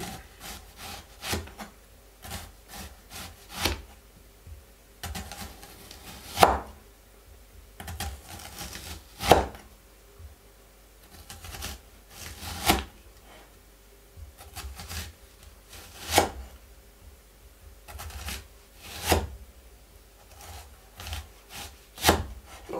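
Knife slicing onion on a wooden cutting board for a chicory dish, with a steady run of crisp chops, some louder and sharper strikes spaced every few seconds, close and alone without talk.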